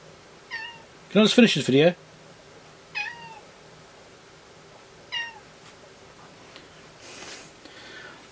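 A cat meows several times in short, separate calls spaced a few seconds apart, close and fairly clear, while someone talks briefly between them.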